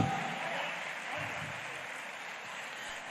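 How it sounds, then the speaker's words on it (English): An audience at a graduation ceremony applauds steadily, a dense, moderately loud patter of clapping that slowly fades over a few seconds. "A round of applause for the treasure group."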